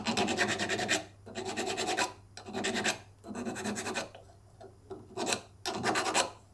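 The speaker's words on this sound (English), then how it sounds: "you don't want to be filing here forever" Hand filing of excess silver solder on a handmade silver necklace with a stone, heard as close, loud rasping strokes in bursts of about a second, separated by short pauses.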